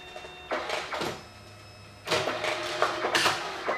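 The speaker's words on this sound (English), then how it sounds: "Now it's actually just gonna print one more just to make sure it's right." A DNP 620a dye-sub photo printer runs through a print, with separate mechanical whirs and clunks in bursts around a steady low motor hum, close and fairly quiet.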